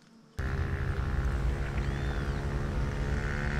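A motorcycle sweeps in close and loud with a sudden steady engine drone, its pitch shifting partway through as it changes gear while passing on the road.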